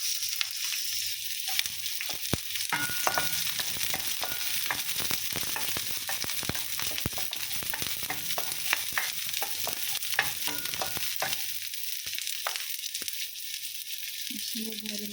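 Garlic and onion fry in a pan with a close, crackling sizzle and repeated scraping and stirring taps from a utensil, continuous and moderately loud with no talking.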